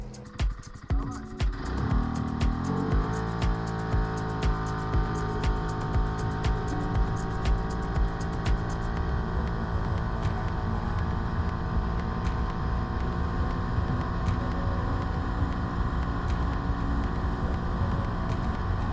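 A Segway Snarler quad ATV pulls away and holds a steady, loud engine drone at top speed after off-roading on unbalanced wheels, with repeated clicks and rattles over the engine.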